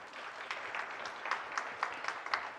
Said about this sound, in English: can we have a little more energy while clapping